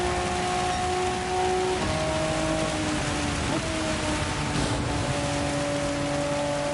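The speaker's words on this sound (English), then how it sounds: "Yeah, it's still raining pretty dang good." Steady rain hiss in Gran Turismo 7 at Suzuka, with a constant Honda NSX GT500 engine drone shifting pitch underneath; no voices.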